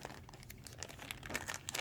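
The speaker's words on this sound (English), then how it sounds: "Let me get another plastic bag, something a little bit longer." A plastic bag crinkles and rustles continuously at close range during a fabric handbag craft project, with irregular crisp crackles and no speech.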